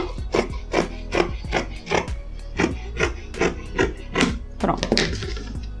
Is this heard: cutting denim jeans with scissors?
yes